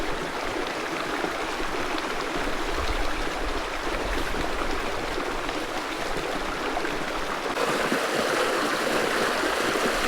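A shallow creek in Murray Canyon, a desert oasis near Palm Springs, rushes and babbles steadily over rocks, a continuous close, full water noise with no voices.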